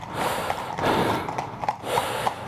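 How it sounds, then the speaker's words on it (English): Horses on an outdoor trail snort and breathe heavily with faint hoof clip-clops, several bursts close by over steady wind and rumbling background noise. "today's trail ride has been overtaken by horses right now"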